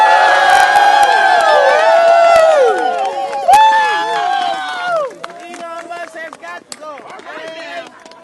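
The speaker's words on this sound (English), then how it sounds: "I want you all to give yourselves a big round of applause." Protest crowd against PEPFAR AIDS relief cuts cheering loudly, with high whoops and shouting voices over scattered clapping, the cheering settling into looser talk and calls after a few seconds.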